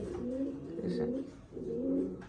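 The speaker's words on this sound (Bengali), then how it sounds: "এক পেয়ার হায়দ্রাবাদি নীলা আছে এটা ইন্ডিয়ান একটা হাই ফ্লায়ার" A pair of Hyderabadi Nila pigeons, an Indian high flyer breed, coo close by in two rounded, throaty bursts separated by a brief pause.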